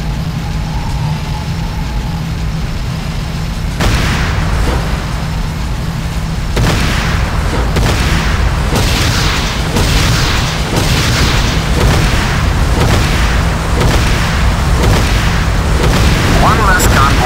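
Rocket salvos in Command & Conquer Renegade slam into a convoy on the road, a run of heavy booming blasts repeating every second or so over rumbling engine noise and battle din.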